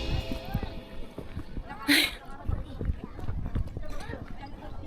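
Hooves clip-clop steadily on hard ground with a brief whinny, while people chat nearby throughout, at a ranch in Puerto Princesa.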